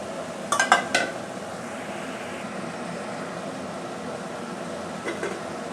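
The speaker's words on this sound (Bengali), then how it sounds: "এবার আমি মটনটা আলাদা একটা বাটিতে তুলে দেবো" Boiled mutton is moved into a separate bowl: a quick burst of metal spoon scrapes and clinks against the pot near the start, a softer pair of clinks later, with a low steady background hum between.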